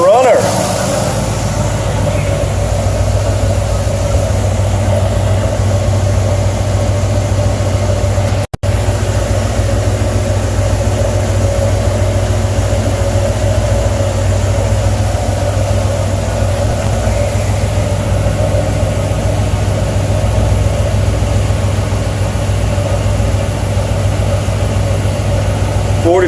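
A Ford F1 truck engine idles steadily for the whole stretch, a constant low rumble with an even hum and one brief cut partway through.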